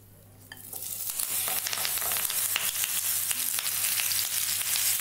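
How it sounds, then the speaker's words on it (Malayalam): Marinated chicken hits a pan already holding curry leaves, the frying rising within the first second into a loud, dense, crackling sizzle that holds steady and close for the rest, no speech. "ഇനിയിപ്പോൾ നമ്മൾ മാരിനേറ്റ് ചെയ്ത് വെച്ചിരിക്കുന്ന ചിക്കൻ ഇതിലിട്ട് കൊടുക്കുന്നു."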